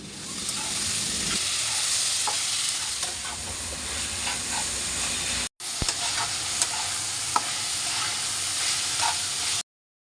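Shrimp with onion and green chili frying in hot oil gives a steady, loud sizzle with scattered stirring clicks, a brief dropout near the middle, then the sizzle resumes and stops abruptly near the end.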